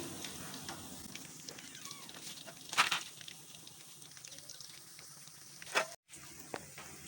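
Onion and potato pakoras fry in hot oil over medium heat, giving a quiet, steady sizzle with soft bubbling and a couple of louder crackles as pieces are turned.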